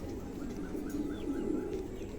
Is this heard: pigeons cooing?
yes